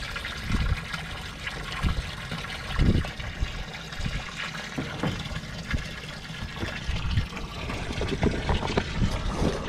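Water from a hydroponics system drains out through a tube fitted with a larger drain valve. It gushes and trickles steadily and close by, with irregular splashy surges, and no one speaks.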